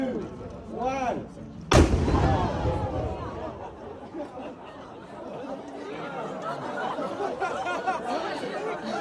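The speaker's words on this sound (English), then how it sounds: "that is a real cannon. It went off at noon." Zagreb's noon cannon fires a single sharp, booming report that rolls into a rumbling echo through the city, with a crowd of onlookers chattering and talking before and after.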